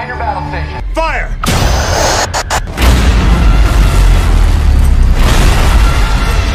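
Naval gun firing aboard a warship, a deep heavy boom followed by a rumbling roar that lingers, loud and close, after shouted commands and alarm tones.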